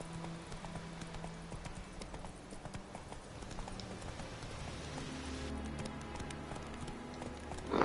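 Roach the horse galloping in The Witcher 3 game, a quick continuous drumming of hoofbeats that runs steadily throughout, fairly quiet, with faint ambient noise behind and no talking.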